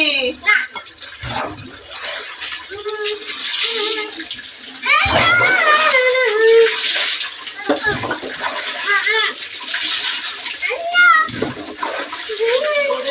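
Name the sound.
water splashing while bathing a child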